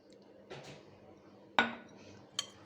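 A spoon tosses Mexican salad ingredients, including corn, dill, olive oil and pomegranate molasses, in a bowl, making a few sharp, separate clinks against the dish over quiet rustling.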